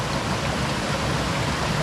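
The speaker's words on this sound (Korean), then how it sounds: "겨울에도 아주 물소리, 그 계곡물 소리가 들리십니까?" A mountain valley stream rushes through Jirisan in winter, a dense, steady wash of flowing water that stays close and even, with no voices.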